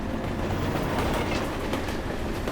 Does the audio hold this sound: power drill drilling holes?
no